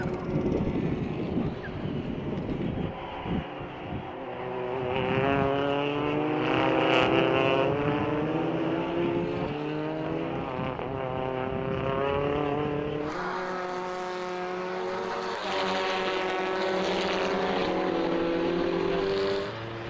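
TCR touring race cars race at Balaton Park in TCR Eastern Europe, engines roaring loud and close, revving through rising gear pulls, with a second car's tone layered in as the cars run nose to tail down the back straight.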